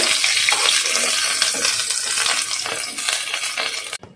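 Puli dumplings fry in hot oil with a loud, close, continuous sizzle and crackle, easing slightly before an abrupt cut near the end.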